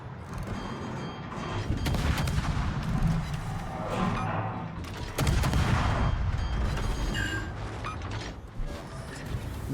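Ship guns fire in a World of Warships naval battle, heavy booming salvos and broadband blasts rolling over one another continuously, with a loud burst near the middle and dense gunfire throughout.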